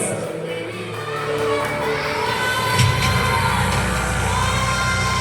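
An audience cheers, shouts and whoops, with children's voices prominent, for primary school students walking in a school fashion show; a loud, steady crowd roar with brief peaks runs throughout.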